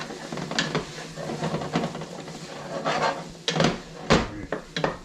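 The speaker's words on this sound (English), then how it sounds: "now we are gonna add in our tablespoon of flour. Just gonna mix that around." A tablespoon of flour is mixed around in a pan, giving soft scraping and stirring strokes over a light sizzle, with a few sharper utensil knocks toward the end.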